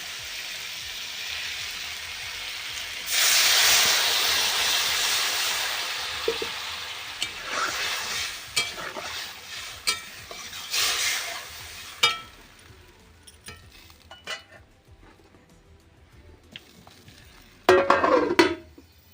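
Water hits spiced cauliflower and vegetables in a hot pan with a sudden loud hissing burst, easing into a simmering sizzle with stirring clatter, then quiet and a final short sizzling flare.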